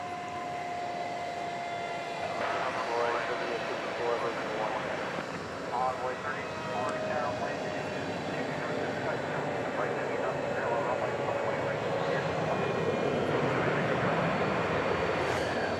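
Boeing 767 at DFW Airport at night, a distant jet engine producing a steady, thin high whine over broad airport rumble, with people talking throughout.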